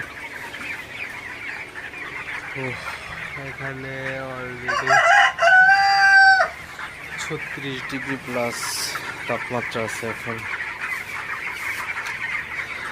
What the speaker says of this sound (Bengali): আজকে হচ্ছে আমার ব্রয়লার মুরগির বয়স 21 দিন চলতেছে